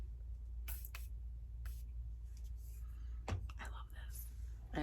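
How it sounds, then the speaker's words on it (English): A few short hissing bursts of makeup spray puff out close up against a low steady hum, spaced apart with quiet gaps between them. "I'm gonna give it a spray."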